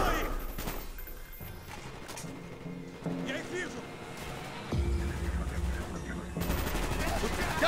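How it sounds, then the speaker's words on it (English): Gunfire in the Call of Duty: Black Ops video game at the Cosmodrone, a dense, busy battle mix of shots and rumbling noise at moderate loudness, with voices calling out over it. "You're getting shot up!"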